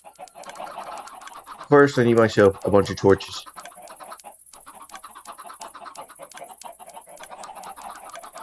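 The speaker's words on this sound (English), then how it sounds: "And I really should move away from all those chickens." Chickens cluck close by in the Minecraft video game, a short burst of loud clucks early on, with someone talking over a faint steady game background.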